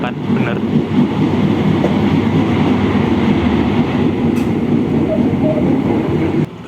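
An Indonesian passenger train, the Argo Dwi Pangga, rumbles steadily past at close range near Tambun station, a continuous low roar with faint rhythmic rattling throughout, cutting off abruptly near the end.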